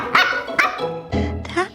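Sealyham Terrier puppies giving several sharp, high yips and barks close by, in quick bursts with short gaps between them.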